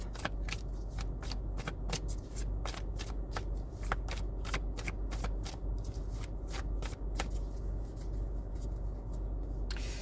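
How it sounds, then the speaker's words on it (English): A tarot card deck is shuffled close by in a quick series of crisp riffling flutters and soft slaps, steady and quiet, with no voices. "I'm going to pull from the tarot deck and see what's going on"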